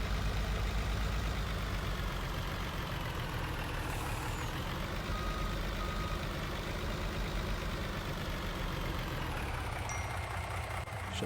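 A truck in Farming Simulator 19 idles with a constant low diesel drone, steady throughout with a faint shift in pitch partway and a brief hiss of air near the end.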